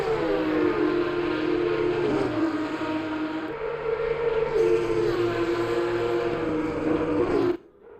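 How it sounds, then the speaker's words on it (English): A Porsche Supercup race car engine in the racing game ACC drones loud and steady with a rising and falling pitch, the gear changes audible, and it cuts off sharply near the end. "Now tell me that's not a real race car engine."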